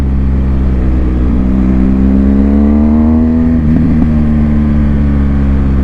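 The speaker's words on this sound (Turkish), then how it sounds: "Egzoz patlata patlata gidiyoruz" Steady engine rumble from a BMW R1200 GS motorcycle with a new exhaust silencer being ridden, pitch rising and falling, with a brief crackle of exhaust pops near the end.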